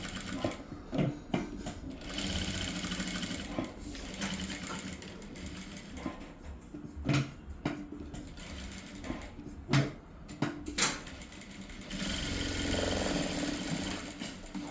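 A sewing machine stitches a collar onto a top in bursts of whirring, running steadily, pausing briefly several times, then resuming, close and moderately loud.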